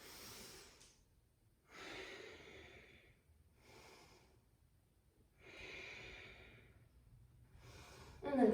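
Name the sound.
deep breathing during yoga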